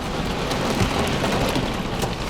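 Heavy rain and wind from a hurricane-like squall during a July hailstorm in Champaign County, Illinois, a loud, unbroken roar of rain pounding surfaces without any voices.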